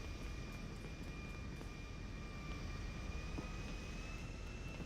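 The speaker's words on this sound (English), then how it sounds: "This military jet I stole from Fort Zancudo" A stolen military jet from Fort Zancudo in GTA V roars steadily for the whole stretch, a constant broadband engine drone with a faint high whine, with no voices over it.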